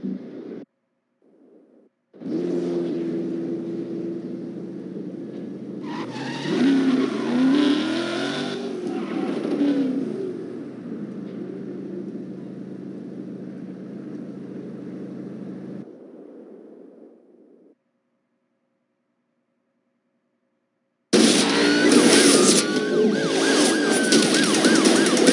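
A car engine races in Need for Speed Undercover with police sirens wailing over it. The loud roar runs steadily, drops to near silence for a few seconds, then bursts back in.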